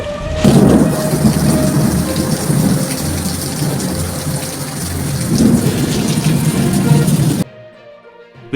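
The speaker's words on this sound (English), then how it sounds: "That's a doozy of a storm," A severe thunderstorm with hail and flash flooding on a main street in Australia produces steady, loud rain and a deep rumble of thunder throughout, then cuts off sharply near the end.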